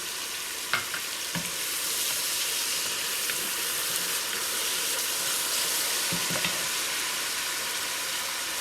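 Garlic fries in a pan for vegan collard greens, giving a steady close sizzle and hiss with a few brief stirring knocks and scrapes.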